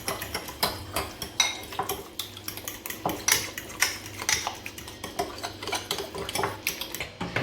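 A spoon clinks and scrapes around a bowl in quick, uneven strokes as a curd vada mixture is stirred, close and fairly loud.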